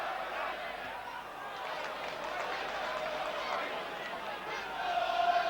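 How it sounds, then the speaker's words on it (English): Home football supporters cheering at Carrow Road on Boxing Day, Norwich City against Tottenham, a steady broad crowd roar that swells slightly at the end, heard under a commentator's voice. "So the home supporters trying to get a few cobwebs out the system and cheer on their side."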